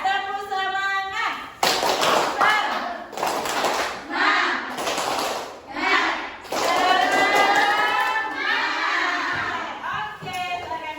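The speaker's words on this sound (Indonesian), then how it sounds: "Kita tepuk semangat aja ya, biar semangat ya." A group of children in a classroom performs the rhythmic 'tepuk semangat' spirit clap, bursts of loud patterned clapping alternating with chanted voices, close and lively.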